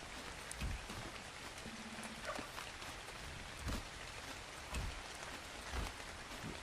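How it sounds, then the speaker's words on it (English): Rain patters on the roof of a building in a steady, soft wash, with occasional heavier drops and low thumps standing out at a moderate distance; no one talks. "the sound of the rain on top of the building"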